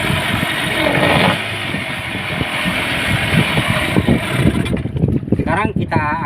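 Yamaha 15 hp outboard engine with a flooded carburetor runs after a restart, a loud, steady rough drone with uneven chugging pulses, close by, with a voice speaking briefly near the end.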